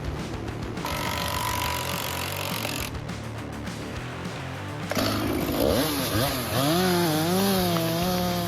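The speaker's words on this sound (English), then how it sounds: "When the engine runs, the chain spins at high speed, cutting through it effortlessly." A high-speed chainsaw roars steadily as it cuts through wood, loud and close, its engine pitch bending and wavering in the later part as the chain bites into the log, with no voices.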